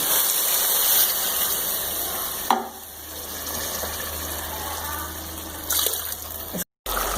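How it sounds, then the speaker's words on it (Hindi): Water poured into a pot of beef browned in ghee, a steady gushing pour with faint sizzling from the hot meat, with a short break and a second splash near the end; no talking. "अब इसमें हम पानी डाल के इसको गलने रख देंगे"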